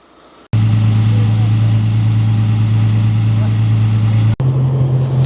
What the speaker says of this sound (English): We got our V8 rumble going on.